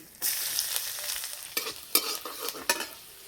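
Dried red chillies and crushed garlic drop into hot cooking oil and start frying, a sudden sizzle that settles into a steady hiss broken by sharp pops and stirring scrapes, close and with no talking.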